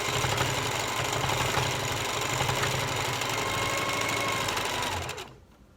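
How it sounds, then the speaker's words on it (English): A sewing machine runs in a steady, continuous whirring stitch while sewing over elastic on a fabric face mask, loud and close, then stops abruptly near the end. "you're going to sew over the elastic and back stitch"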